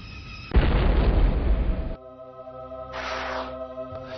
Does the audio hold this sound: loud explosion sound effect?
yes